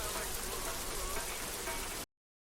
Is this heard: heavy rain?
yes